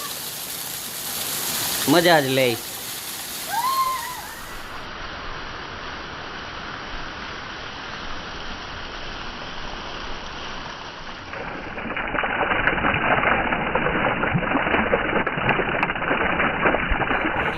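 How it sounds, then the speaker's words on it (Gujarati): Heavy rain in Junagadh, a broadband roar of falling water and runoff that steps down around five seconds and swells louder again after twelve seconds, with children's voices briefly calling over it near the start. "ફૂલ વરસાદ જૂનાગઢમાં રાત આખી ચાલુ જ રહ્યો છે ને અત્યારે ચાલુ"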